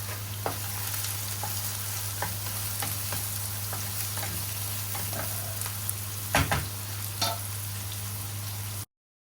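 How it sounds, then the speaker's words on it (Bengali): Chopped onions frying in oil in a pan: a steady close sizzle over a low hum, with a few scrapes and knocks of stirring, and no talking. "পেঁয়াজটা অনেকটা ভাজা ভাজা হয়ে এসেছে"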